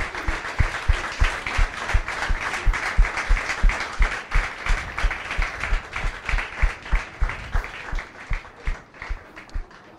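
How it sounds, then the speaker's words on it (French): Congregation clapping along at a gospel concert, a dense, steady rhythmic applause of many hands filling the room without a break, loud and sustained throughout. "give a hand of clap for God?"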